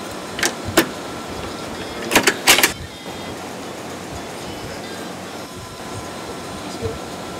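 Cut air lines on a Mercedes CLS 500 rear air suspension release pressure in a few sharp, close hissing bursts, followed by quieter background noise.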